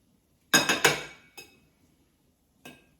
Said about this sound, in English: Just bringing some of the noodles to the top and just really mixing in that sauce.